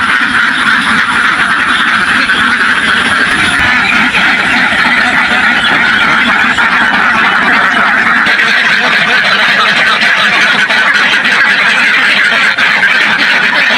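A large flock of ducks at a Bangladeshi duck farm quacks in a loud, dense, unbroken chorus, many birds calling at once close by for the whole stretch.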